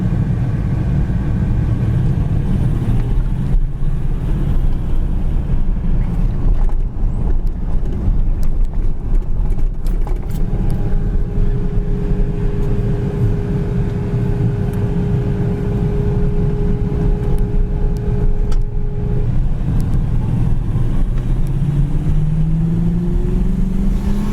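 A 1981 Pontiac Firebird engine runs steadily with a loud, continuous low rumble, a faint whine rising near the end, and no one talking.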